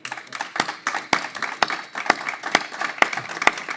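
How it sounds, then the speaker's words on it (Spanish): A small audience at a panel discussion claps in sparse, distinct individual strikes rather than a full roar, with the claps standing out clearly against quiet surroundings. "a vosotros pediros un aplauso súper fuerte"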